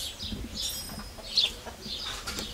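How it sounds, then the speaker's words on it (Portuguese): Birds chirping and twittering in short bursts on a farm, fairly close, with a faint low clucking underneath and no talking. "Muito gostoso ficar ouvindo o cantar dos pássaros."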